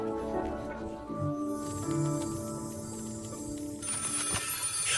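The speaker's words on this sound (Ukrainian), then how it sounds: "Хтось дзвонить до нас, чи що?" A telephone rings with a warbling electronic tone, repeating in bursts, moderately loud with some background noise and no talking.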